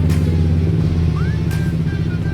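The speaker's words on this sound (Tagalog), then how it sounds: "So start natin yung motor natin." A Zontes 400G motorcycle engine runs close by at a steady, throbbing idle with a low rumbling tone, alongside a faint rising electronic chirp.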